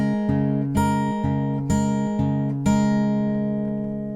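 An acoustic guitar with a capo plays a plucked picking pattern for a song, with clear ringing notes struck about every half second and left to sustain under each new pluck.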